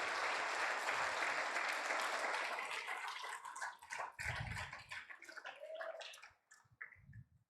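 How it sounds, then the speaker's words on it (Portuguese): Applause from a church congregation at a family-month service, dense at first, then thinning into scattered claps and fading out over several seconds. "Você pode aplaudir Jesus?"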